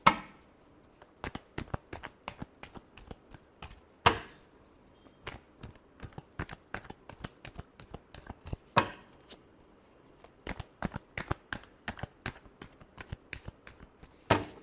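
Tarot cards shuffled by hand in quick, crisp bursts of riffling clicks, repeated in short runs with brief pauses, close and clear with no talking.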